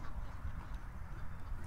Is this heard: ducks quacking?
yes